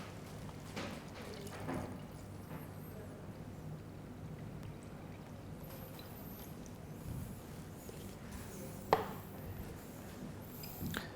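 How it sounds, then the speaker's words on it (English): Roasted stock pours steadily into a pan over ox cheek, a continuous, close, watery splashing and trickling with faint clinks and no voices. "The roasted stock is now going to be added to the pan, and I want it to just cover the top of the ox cheek."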